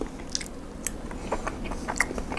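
Someone chews a steamed herbal meatball close up, with soft, irregular biting and squishy chewing sounds over a steady background hum and no talking.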